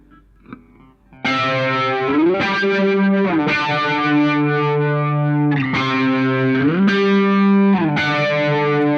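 Distorted Les Paul electric guitar chords through an octave flanger ring out with a sweeping, swirling modulation effect, played loud and sustained in several strummed phrases.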